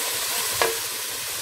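Onions, tomatoes and garlic fry in a pan, giving a steady hiss and sizzle with a single brief scrape of a stirring utensil near the middle.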